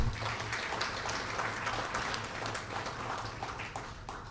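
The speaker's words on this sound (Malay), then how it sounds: "Satu tepukan juga kepada mereka." An assembly audience at a monthly fire and rescue air division gathering claps steadily throughout, a dense spread of many hands at moderate volume with no voices over it.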